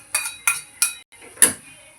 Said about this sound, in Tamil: இதை சென்னாக்குனி கருவாடையும் இதில் சேர்த்து நல்லா மிக்ஸ் பண்ணி விட்டுட்டு